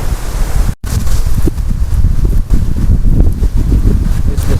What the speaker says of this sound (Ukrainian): Тут вітряна погода, дерева шумлять.